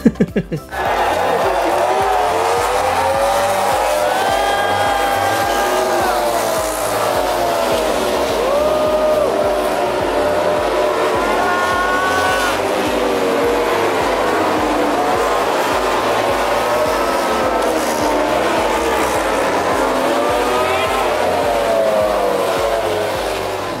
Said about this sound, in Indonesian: dengerin langsung raungan motor dari MotoGP itu rasanya